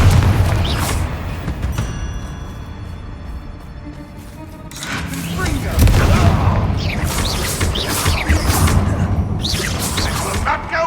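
A Confringo blasting spell exploding in the video game Hogwarts Legacy, heavy booms and crashing bursts with whooshing debris recurring through the scene, loud, under game voices and chatter.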